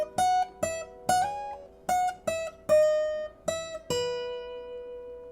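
Acoustic fingerstyle guitar plays a phrase from a piece: about eight plucked notes and chords, each ringing and overlapping before the next, in a steady unhurried rhythm. The tone is clear and close, the last chord left to decay.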